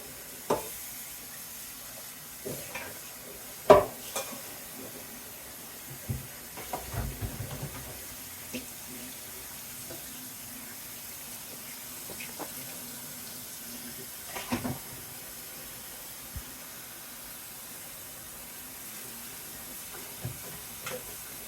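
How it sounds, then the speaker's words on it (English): Steady faint hiss of cold tap water running over strained macaroni, with occasional soft clunks and knocks over it. "Strain it right away. And run it under cold water till cold."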